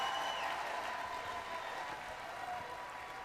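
Applause from a chamber audience during a State of the Union broadcast, a steady even wash of clapping that stays fairly faint and distant throughout, with no voices over it.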